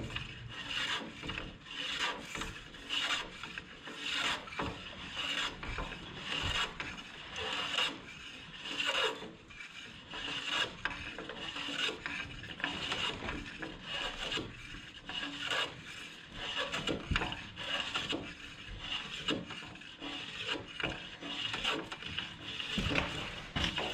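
A hand plane shaves wood for a boat under construction at a shipwright's workshop, making repeated rasping strokes in a steady rhythm, close and fairly loud throughout.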